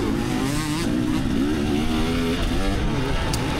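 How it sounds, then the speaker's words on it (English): A 2024 KTM 300 SX two-stroke dirt bike rides a hot, dry motocross track on a practice day, its engine a loud, close, steady buzzing drone with rising and falling revs. "riding the 2024 KTM 300 SX"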